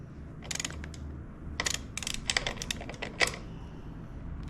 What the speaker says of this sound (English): So get under here with a socket, holding everything so it doesn't move.